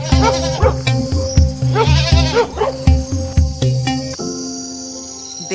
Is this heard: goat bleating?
yes